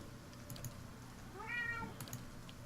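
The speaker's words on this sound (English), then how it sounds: "What is it, kitty?" A house cat meows once with a rising-falling call, fairly close, over quiet game background sound and a few keyboard taps.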